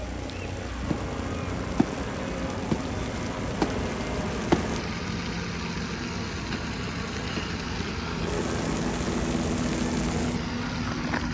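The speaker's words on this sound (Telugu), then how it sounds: "సో ఇప్పుడు మీరు చూసేది హెలికాప్టర్ రైడ్ అది." A tour helicopter flies over the crowded Medaram jatara festival grounds, its engine a steady, fairly distant drone that holds throughout, with a few faint knocks and background crowd noise beneath.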